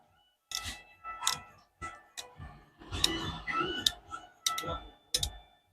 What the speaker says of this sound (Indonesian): Menggunakan obeng diputar ke arah kiri sampai bunyi kedengaran klek